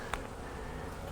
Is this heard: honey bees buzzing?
yes